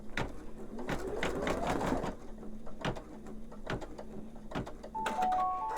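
Embroidery machine stitching a design, producing rapid repetitive mechanical clatter with regular sharp ticks and a fast whirring rhythm, close and fairly quiet, with a brief higher electronic beep near the end.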